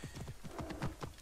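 Horse hooves clip-clopping in Assassin's Creed Origins, a quick steady rhythm of close, distinct hoof strikes over roughly a second with no talking.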